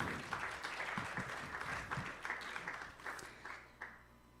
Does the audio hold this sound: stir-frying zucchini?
no